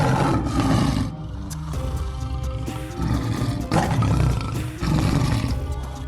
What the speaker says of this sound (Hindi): एकदम उसे दहाड़ने की आवाज आती है।